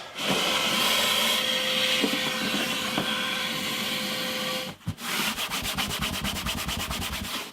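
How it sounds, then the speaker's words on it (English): A vacuum cleaner sucks dust and muck out of a vintage steel-string acoustic guitar, a loud steady hiss and rush with a whining tone, then rapid rhythmic rubbing and fluttering as the nozzle works around the body. "let's hoover it out"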